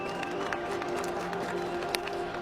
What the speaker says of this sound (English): Now they're applauding the Pakistani achievement as well